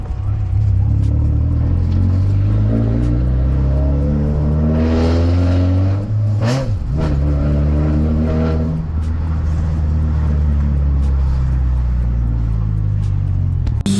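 A Subaru with a custom TIG-welded exhaust idles and revs on a drive, its loud, raspy engine note rising and falling through several revs with a sharp blip midway, all close and continuous.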